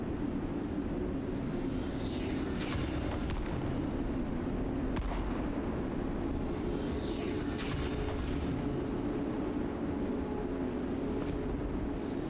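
Enemy gunfire in the Metal Garden game sounds as a few sharp, distant-seeming shots over a steady low rumble of ambient noise, with no speech.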